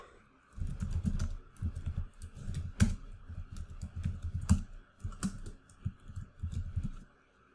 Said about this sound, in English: And now we're going to type in the name of the group.